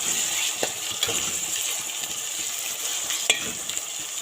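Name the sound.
onions, green chillies and tomatoes sautéing in pan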